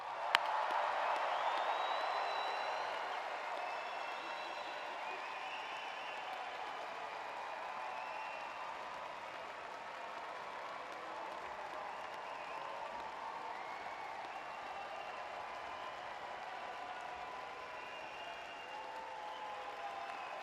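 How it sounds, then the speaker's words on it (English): Audience applause for engineering alumni at a college graduate recognition event, a sustained, fairly distant wash of many hands clapping that holds steady and slowly eases over about twenty seconds. "I'm going to ask the audience if they would like to give them one more round of applause"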